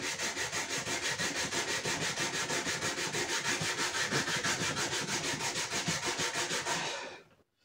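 Hand sanding the plastic-coated fuel tank of a 1993 Honda CR125R with coarse grit paper, a rapid rhythmic back-and-forth rasping of even strokes, close up, stopping abruptly near the end.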